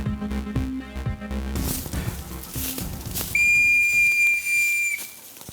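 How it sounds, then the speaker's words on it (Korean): A loud, sustained high whistle blast calling back hunting dogs during a wild boar hunt sounds after a few seconds of mixed background noise, holding steady for nearly two seconds before cutting off. "사냥견들이 너무 멀어지면 호루라기로 신호를 보내서 다시 불러드립니다"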